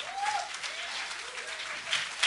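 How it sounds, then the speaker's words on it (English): Audience applause at a motivational speaking event, a steady rush of clapping at moderate volume, with a faint voice briefly audible over it. "Let's give Ed a round of applause."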